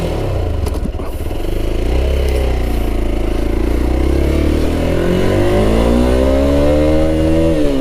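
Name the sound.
Hero Xpulse 200 4V motorcycle accelerating during speed test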